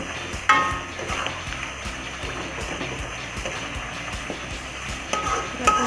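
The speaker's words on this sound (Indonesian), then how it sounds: "Menumis bumbu itu harus sampai wangi" Spice paste for beef curry sizzles in a pan while it is stirred, giving a steady fry with small scraping and tapping stirs close by and a louder clink near the start.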